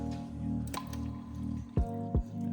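A thickener mixture is added slowly to a pot of nihari, giving soft wet drips and squishy plops at intervals over a low steady background hum.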